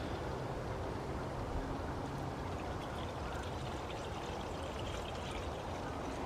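A coolant and water mix poured into the coolant tank of a BMW N52 engine, a steady, continuous splashing pour heard up close at an even level for several seconds.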